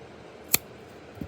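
Scissors give one crisp, close snip as they cut off a long yarn end during crochet of an amigurumi octopus, followed by a faint soft click.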